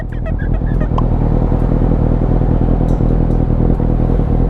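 A Suzuki GSX750 motorcycle engine idles close by, a loud, steady, throbbing rumble that holds throughout with a little faint mechanical clatter.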